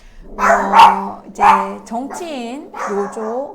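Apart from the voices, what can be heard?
dog barking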